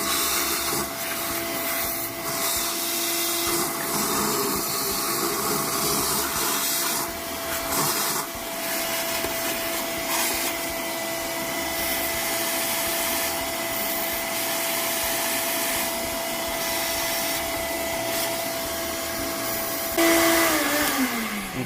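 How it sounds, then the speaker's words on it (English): Vacuum cleaner sucking debris out of the air filter housing on a Honda GL1800 Gold Wing motorcycle: a continuous loud whining hiss with a steady tone, fluctuating slightly as the nozzle moves, then briefly rising near the end. "I just went in there with the vacuum"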